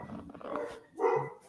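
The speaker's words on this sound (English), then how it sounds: "I have dogs barking in the background." Dogs bark in the background of a live radio talk session. Two short bursts come through, a few seconds apart, moderately loud, with no talk over them.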